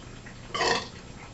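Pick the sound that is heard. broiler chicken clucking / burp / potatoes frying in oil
burp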